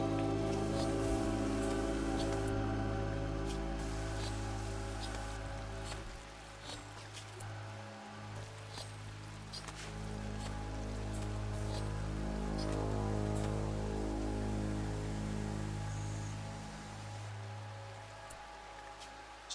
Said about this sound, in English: So we got the blood rain.